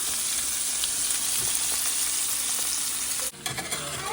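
Prawns fry lightly in a pan, giving a loud, close, continuous hiss of sizzling oil that breaks off abruptly near the end, followed by a few soft clatters.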